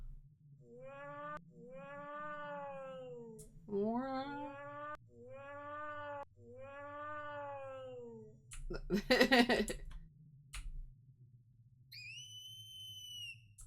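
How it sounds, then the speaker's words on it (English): Drawn-out, pitched-down meow-like wails repeat in a video game, each a slow, moaning sweep, with a burst of noise near the end and a higher tonal chime closing it. "That sounds like a cat, like pitched down."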